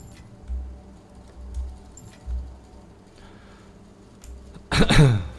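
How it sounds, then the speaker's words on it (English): A person gives a brief, harsh, close cough near the end, after low muffled thumps and quiet background noise. "Why am I coughing?"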